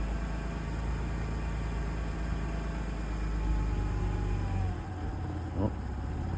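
An old car engine runs steadily after a cold start, a continuous close rumble with a brief change in pitch near the end and no talking over it.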